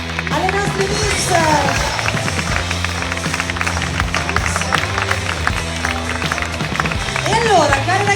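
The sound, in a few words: applause for the Miss contestants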